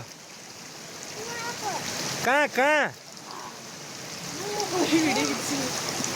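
A waterfall gives off a steady, broadband rushing roar throughout, close and continuous, with brief voices speaking over it partway through.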